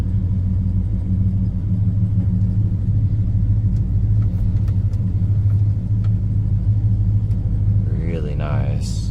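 A 1970 Plymouth GTX V8 idles steadily while warming up after sitting for over twelve hours, a deep continuous low rumble holding even throughout, with a brief voice near the end.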